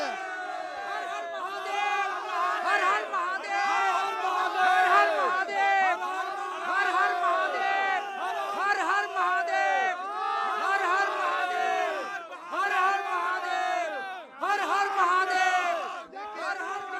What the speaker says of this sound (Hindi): आज जो लोगों की भीड़ है वो दिखाई दे रही है